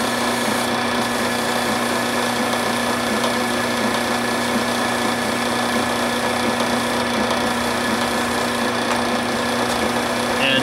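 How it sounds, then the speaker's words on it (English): Wood lathe spinning a pen blank at 1270 RPM: a loud, steady motor hum with a constant whir, close and uninterrupted. "the second belt setting, which on this lathe is 1270 RPMs"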